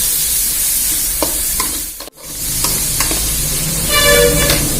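Ginger garlic paste frying in a pan for macaroni pasta, a steady broadband sizzle with occasional stirring scrapes, briefly cut off midway before resuming loud and close, with a faint high whistle-like tone near the end.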